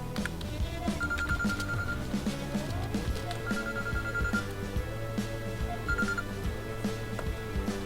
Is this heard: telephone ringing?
yes